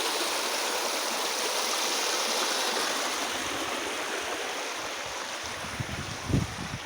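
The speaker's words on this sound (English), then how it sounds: "Can you see the rapids? It is more or less a rapid." River rapids rush over a basalt rock bed near a river confluence, a steady broadband roar of turbulent water close by, with a brief louder splash near the end.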